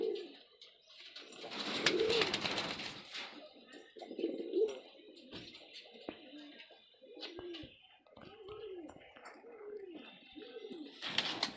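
Pigeons cooing, including a pair of pilank birds, with soft, repeated, rolling coos at close range amid light background noise and faint talk.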